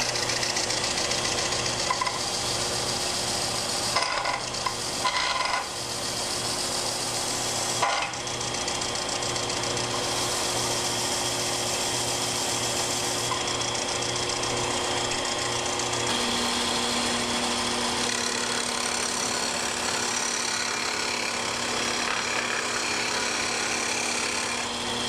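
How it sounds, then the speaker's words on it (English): A restored combination belt and disc sander runs steadily with a continuous motor hum and belt whir, loud and close, with a few brief knocks early on and no talk. "This disc belt sander is now in good working condition."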